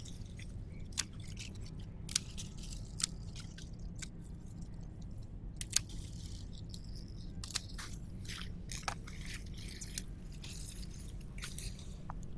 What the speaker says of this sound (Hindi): इस तरीके से कैंची से भी काटे जा सकते हैं इजीली।